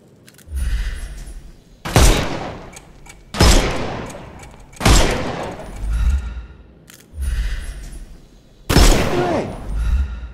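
Gunfire while shooting the armor off enemies in Sherlock Holmes Chapter One, a video game: six heavy booming shots spaced about a second and a half apart, each with a low thump and a fading tail.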